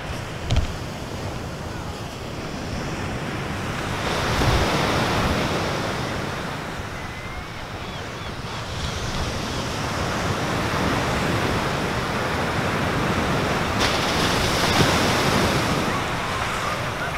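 Ocean surf rolling onto a beach near the Robert Moses Lighthouse, a steady wash of breaking waves with gentle swells and some wind buffeting the microphone, no one talking.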